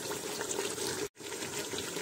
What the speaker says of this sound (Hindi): ये मैंने एक जग पानी डाल दिया इसमें